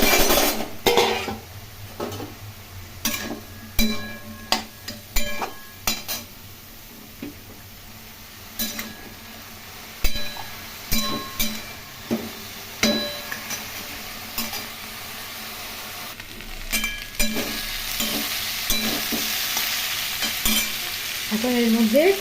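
Potato, eggplant, yardlong beans, pointed gourd and teasel gourd are stir-fried in a pan for Bengali chochchori. A steady sizzle runs under repeated spatula scrapes and metallic clinks, some close and sharp, with no talking.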